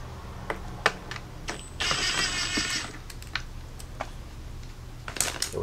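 Small metal tool clicks and sharp taps come from removing 8mm screws that hold the blower motor in a Jeep Cherokee XJ. A brief buzzing burst of about a second sits in the middle of a fairly quiet, close background.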